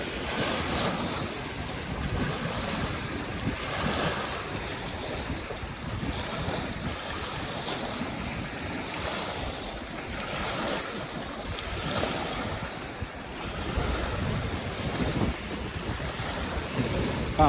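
Strong gusting wind buffets the microphone on a lake shore at Lake Murray, South Carolina, with waves lapping steadily underneath; a continuous loud roar with no talking.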